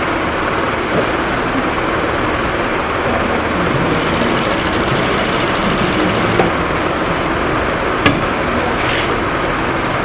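A sewing machine stitches along elastic with a steady, fast, close mechanical whir, continuous across the whole stretch and nearly free of talk.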